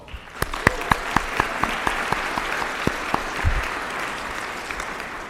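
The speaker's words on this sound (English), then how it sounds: "Let's give them a round of applause" A round of applause from the audience at the 2022 AIC Athletics Hall of Fame induction ceremony, with distinct, fairly evenly spaced claps standing out over a steady crowd wash for several seconds.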